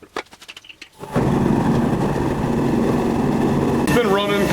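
A homemade forge burner with fire shooting out the top bursts into a loud, steady roar after a second of quieter sputtering, holding an even, close rushing tone throughout.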